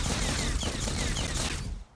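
A sci-fi infinite gun in the video game Death Waves fires a dense, rapid burst of shots that runs unbroken for about two seconds, then cuts off abruptly.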